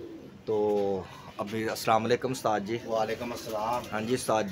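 Pigeons cooing on a rooftop coop, low soft coos sounding close by under a conversation between two men that runs through most of the moment.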